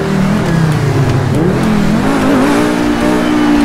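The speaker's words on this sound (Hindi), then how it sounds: "क्या गाड़ी लग रही है भाई, आप इसकी आवाज़ सुनिए।" Sports car engine in Grand Theft Auto V revving loud and steady, pitch rising and dipping continuously as it accelerates, close and unbroken with no talk.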